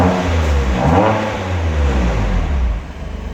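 A BMW M2 with the N55 engine revs loudly up close, its exhaust note swelling in pitch then settling into a steady, throaty drone before easing off.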